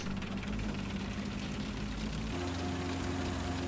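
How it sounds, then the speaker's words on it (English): Engine start of a nuclear-powered aircraft in a War Thunder user-made mod, heard as a loud, steady droning roar. Partway through, the pitch steps into a new sustained hum. "Start the nuclear engine."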